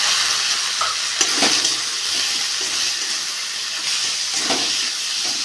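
A spice mix of coriander, cumin and salt with chopped tomato sautéing in oil in a pan, a close, continuous hiss and sizzle broken by a few scraping stirs, with no talking.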